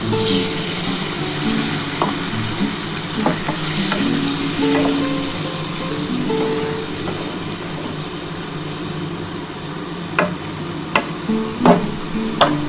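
A steady, loud sizzle as spice water bubbles in a hot pan for a fish curry, with a few clinks toward the end.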